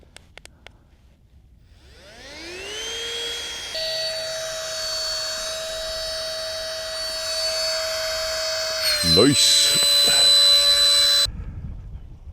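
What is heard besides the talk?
vacuum pump compressing Fanwoli rolling travel backpack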